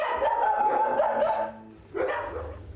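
A young dog from Serbia barks in an animal shelter. A run of close, loud yapping barks and whimpering yips comes first, then a short pause, then a second burst of barking with no one talking.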